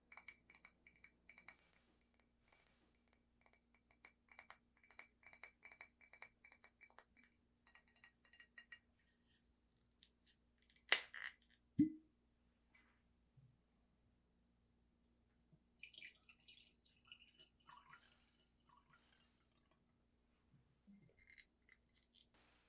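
Glass clinks softly as a freshly opened bottle of elderflower ale is handled and poured, with faint, scattered taps and rattles at close range, one sharper clink mid-way, in a very quiet setting.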